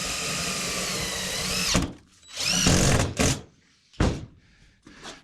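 Power drill driving screws into metal roofing on an old barn, a loud sustained whir for nearly two seconds, then several shorter bursts with pauses between, close by and with no talk.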